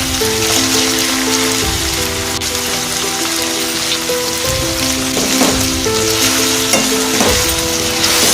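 Chopped onion and four green chillies frying in hot oil in a pan for a village-style ivy gourd fry, giving a steady, close sizzle with occasional stirring scrapes and faint music underneath, no talking.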